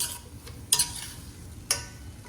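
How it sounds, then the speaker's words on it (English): Onions and tomatoes stirred in a cooking pan over high heat, with a soft background hiss, faint scraping, and two sharp clinks of a utensil against the pan, close by and without speech. "Give it a stir."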